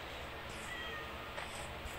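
A Minecraft cat meows faintly a couple of times beneath a steady wash of game background noise.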